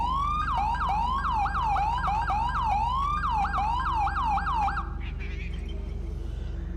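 Police siren from a GTA V LSPDFR ELS mod, a loud rapid warbling yelp cycling repeatedly over a constant engine drone, then cutting to a softer, different tone for the final seconds.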